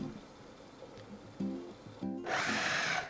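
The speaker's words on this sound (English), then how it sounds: "Pulse these ingredients a couple of times just to roughly chop them." A food processor pulses garlic parsley sauce ingredients with salt and olive oil: a few soft knocks, then one short, loud whirring burst of the motor near the end.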